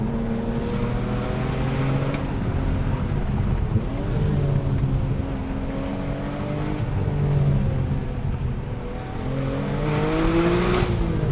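Supercharged BMW E46 M3 with the S54 engine and traction control off, accelerating hard: a loud, close, continuous engine roar with rising and falling pitch as it works up through the revs.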